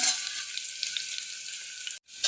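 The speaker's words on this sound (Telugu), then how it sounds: "తర్వాత ఉల్లిగడ్డలు వేసుకుందాం మంచి కలర్ రావాలి" Onions frying in hot oil with cloves, cardamom, cinnamon and bay leaves for tomato rice, a soft continuous hiss at low level that cuts out abruptly near the end, with no speech.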